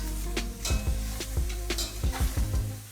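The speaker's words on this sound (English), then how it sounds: "Add the meat to the pot and mix." Coarsely chopped lamb thigh meat sizzles steadily in a pot while a utensil stirs it, with repeated scraping strokes and soft clinks against the pot over a constant frying hiss.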